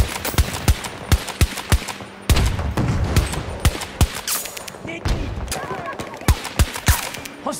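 Rapid, evenly spaced gunshots and bursts of machine gun fire in the video game Battlefield 2042 crack out close and loud, repeating steadily throughout, with voices calling out in between.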